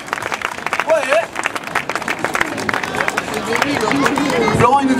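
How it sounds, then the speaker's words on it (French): A festival audience in Avignon applauds a homemade rap act, with steady mixed clapping that swells toward the end under crowd murmur and a voice speaking. "Alors je vous demande de les applaudir très fort."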